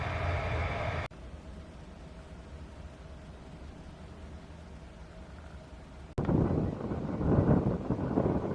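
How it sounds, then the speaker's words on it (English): Wind blows outdoors in Norway's Lofoten Islands, rumbling into the microphone as a steady broadband rush that drops quieter in the middle and swells strongly again near the end. "but it is windy"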